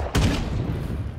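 A single sharp, booming grenade launcher shot in the video game State of Decay 2, followed by a rumbling low tail and a steady background din.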